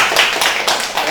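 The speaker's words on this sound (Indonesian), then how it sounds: "Tepuk tangan untuk teman-teman semua." A brief, lively burst of group clapping from attendees at a CV-writing seminar, lasting only about a second.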